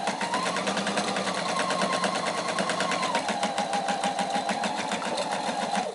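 A sewing machine runs steadily, back stitching a dart on fabric for a small bowl cozy, its rapid needle clatter continuous, close and even throughout with no pauses.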